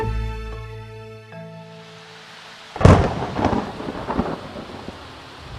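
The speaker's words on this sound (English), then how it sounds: "There seems to be another storm coming." A thunderstorm with rain: after a fading musical tone, a sharp, loud thunderclap breaks in and rumbles on over steady rainfall, with further rolling cracks trailing off.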